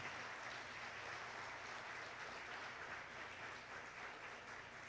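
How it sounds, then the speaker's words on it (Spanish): A church congregation applauds in the sanctuary, a faint, distant, even wash of many hands clapping that holds steady throughout without a break. "un aplauso para nuestros niños y niñas"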